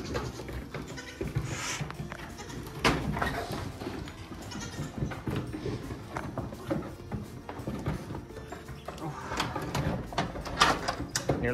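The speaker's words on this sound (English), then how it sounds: "Nearly tripped over a goat." Goats bleat repeatedly on a farm, several calls near and farther off over rustling and shuffling.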